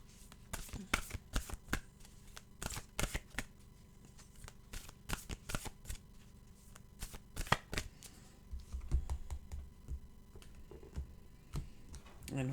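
Deck of oracle cards being shuffled by hand, with repeated quick riffling bursts and clicks close by in a quiet room.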